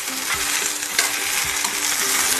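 Okra (bhindi) frying in a pan for masala bhindi, a steady bright sizzle with soft scraping stirs at intervals, close and continuous with no talking.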